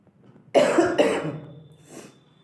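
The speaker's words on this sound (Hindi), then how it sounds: "खांसी हो गया है।" A harsh, close cough in two quick bursts, followed by a fainter third after a short pause.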